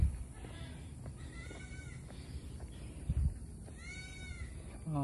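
Goats bleat on a farm track beside a running route, a few wavering calls rising and falling over a low, noisy background of wind and movement.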